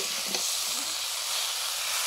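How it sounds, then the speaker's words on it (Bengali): Mixed winter vegetables fry in a kadhai with a steady, close, loud sizzling hiss that runs unbroken, with a faint scrape of stirring early on. "সব সবজিগুলো ভাজা ভাজা করে নিচ্ছি"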